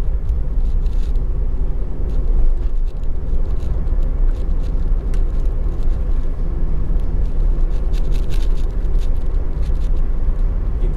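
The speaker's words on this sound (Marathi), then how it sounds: "आता वाजले आहेत 3 आणि आता आपण टनेलच्या आत शिरतोय" Car interior on the Mumbai-Goa highway (NH66) entering the Kashedi Tunnel, a steady loud low engine and road rumble with faint ticks on top, continuous throughout.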